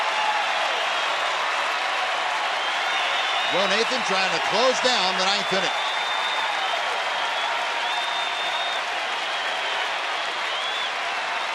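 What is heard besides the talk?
baseball crowd standing ovation for Joe Nathan and the Rangers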